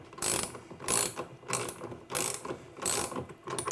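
A ratchet wrench tightens a fitting on a Victron electrical system, giving six rhythmic bursts of close, crisp clicking in under four seconds with no talk.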